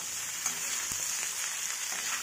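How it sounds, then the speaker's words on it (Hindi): Carrots sizzle in hot oil in a kadhai, a steady bright crackling hiss with occasional pops, fairly close and without speech. "हम इसमें गाजर को भी डाल देंगे। इसे भी हम अच्छी तरह से फ्राई कर लेंगे।"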